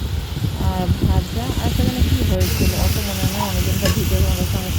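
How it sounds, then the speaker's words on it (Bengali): Prawns frying in a home kitchen pan give a steady, close sizzle with scraping stirs, while someone talks over the cooking throughout. "আর এই দেখো আমার চিংড়ি মাছটা করছি দেখো"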